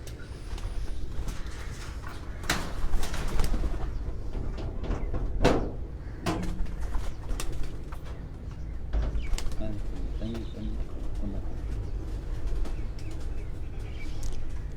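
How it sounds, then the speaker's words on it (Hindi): Pigeons on a rooftop give sporadic wing flaps and scattered soft cooing amid clattering and handling noises, with people talking nearby. "और ले आओ ना कबूतर एक दो और ले आओ ना"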